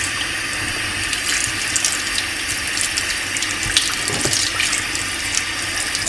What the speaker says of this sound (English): what I'm going to do is get the brush a bit wet with warm water